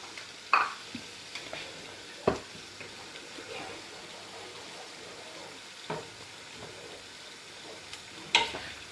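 Onions and cardamom pods frying in a pan for biryani, a soft continuous sizzle broken by a few scattered scrapes and clinks as they are stirred.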